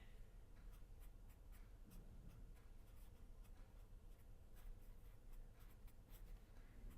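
Pen or chalk writing on a board during an engineering lecture, a continuous stream of faint, rapid ticking strokes and scratches heard close up with no speech.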